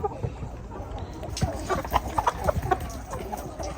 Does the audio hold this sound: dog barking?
no